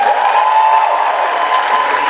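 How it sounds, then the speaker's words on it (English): Steady applause from an audience at a fan convention awards ceremony, a dense continuous patter of clapping with faint crowd noise, even in level for about two seconds. "Please give them a round of applause."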